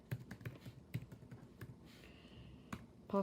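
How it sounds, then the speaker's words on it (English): Keys clatter on a computer keyboard while a username is typed during a Windows Boot Camp setup on a Mac, a close, quick run of light clicks with short pauses and a heavier tap at the end. "So I'll type in a username, and it'll type the PC name as your username automatically."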